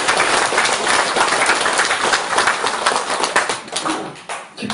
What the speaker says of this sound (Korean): 이거 원하는 사람 뜨거운 박수를 보내드리고 싶습니다